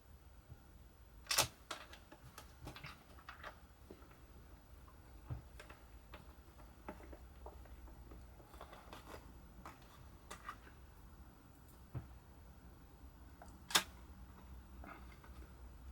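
Screws going back into a Yuneec ST16 drone controller: irregular small ticks, clicks and scrapes of a screwdriver and plastic casing, close and fairly quiet, with a few sharper snaps along the way.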